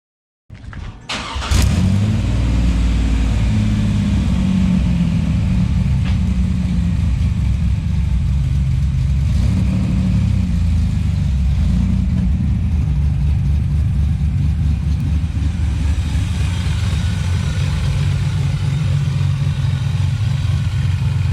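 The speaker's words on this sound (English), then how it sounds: "So we're cruising in it, man, and like overall, it's not too loud." A supercharged V6 Pontiac Firebird engine starts, then hums steadily as the car cruises, with a low, loud rumble heard from inside and no talking.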